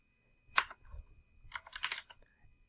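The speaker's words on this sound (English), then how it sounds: "Now I'm going in here and typing in my answer" Typing an answer on a computer keyboard, close and quiet: a single sharp keystroke followed by a brief pause, then a quick cluster of clicking keys, with no voices.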